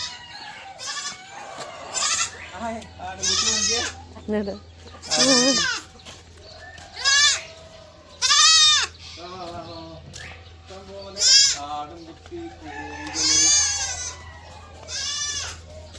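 Goats bleat repeatedly on a farm where chickens are kept, loud close calls coming in irregular bursts with short gaps, while a steady low hum runs underneath.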